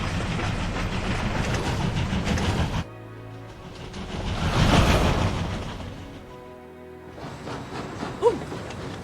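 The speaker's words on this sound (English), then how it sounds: "Oh my god, I love the train." A train in the World of Final Fantasy video game rumbles and clatters steadily throughout, swelling in the middle, with a sharp clank near the end and no talk over it.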